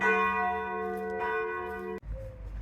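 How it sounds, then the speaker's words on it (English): A church bell in Romania rings after a service, its resonant tone lingering, then stops abruptly, leaving quieter low background rumble. "now they're ringing the bell"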